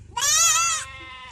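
A voice imitates a goat's bleat, a single loud, wavering, nasal call lasting under a second before trailing into a softer held tone, with no other sound around it.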